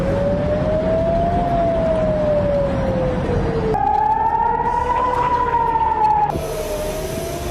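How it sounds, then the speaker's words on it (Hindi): An air raid warning siren in Tel Aviv wails loudly and steadily, its tone rising and falling in long sweeps and jumping to a higher pitch partway through. "तेल अवीव पर हर घंटे चेतावनी के लिए सायरन बजता है।"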